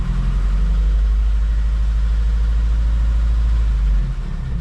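Subaru WRX with a deleted muffler idling warm, its engine briefly revved a little higher before dropping back; a loud, close, steady low exhaust rumble with no talking.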